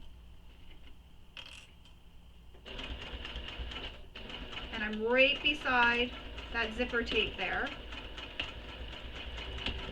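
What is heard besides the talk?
sewing machine back stitching over a wallet D-ring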